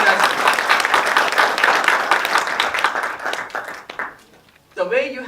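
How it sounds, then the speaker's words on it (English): An audience at a Toastmasters area speech contest in Saudi Arabia bursts into loud, sustained clapping that fades out after about four seconds, followed by a voice beginning to speak. "I want you all to give a big round of applause for delivering this"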